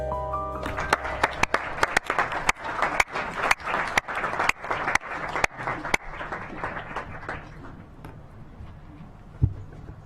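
Applause breaks out in a council chamber session: scattered, individual claps with a distinct rhythm, moderately close, that swell briefly and then thin out to a few final claps.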